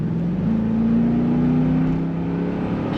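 A 1999 Chevrolet Corvette convertible with an automatic transmission accelerates on a kickdown, its engine note rising steadily and droning loud and close throughout, with no talking.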